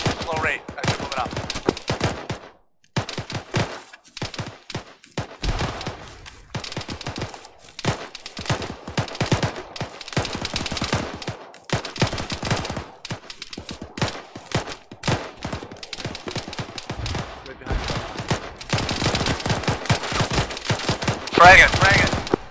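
Bursts of rapid gunfire crack and rattle through a battle on a hillside, some sustained automatic strings and some scattered single shots, loud and close, with faint voices in between.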